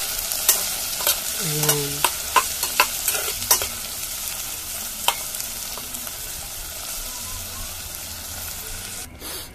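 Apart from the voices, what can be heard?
sautéing onion, garlic and tomato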